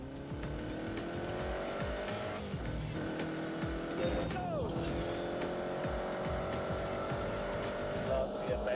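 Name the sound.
Italian classic cars driving on the road, video game The Grand Tour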